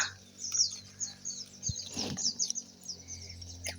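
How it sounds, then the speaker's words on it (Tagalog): Birds squabbling in a guava tree outdoors, a run of faint, rapid high chirps and twitters, with a brief low rustle in the middle. "Nag-away yung ibon guys."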